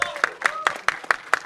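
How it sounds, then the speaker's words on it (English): Scattered, uneven handclaps ring out at an Anil Kapoor press meet for the film Animal, a sparse burst of applause rather than a full ovation, with voices murmuring underneath. "Can we have a huge round of applause for Anil sir?"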